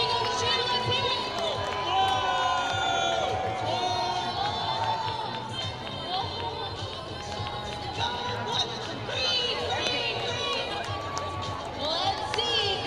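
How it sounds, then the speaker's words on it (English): Stadium crowd at an Oakland Ballers versus Modesto Roadsters baseball game cheers and shouts continuously, a dense roar of voices with children's yells and some clapping mixed in. "If you're wearing a gold bracelet, make some noise."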